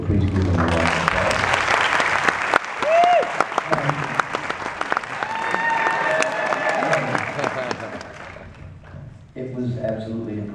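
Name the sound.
audience applause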